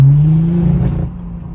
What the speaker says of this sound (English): it still has pop and bangs and a good exhaust tone